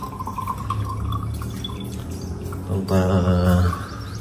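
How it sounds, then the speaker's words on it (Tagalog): Water poured into a cooking pot for a chili dish, with a brief liquid splash and trickle in a busy outdoor kitchen, birds and low rumble in the background. "Tapos lagyan natin ng kunting tubig."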